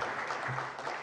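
Members of the House of Assembly applaud in the chamber, a dense, continuous patter of many hands clapping at steady volume throughout.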